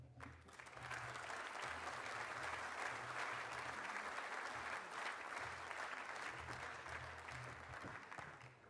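Steady applause from an audience following scholar speeches, continuous clapping heard from a slight distance for nearly nine seconds with a low hum beneath.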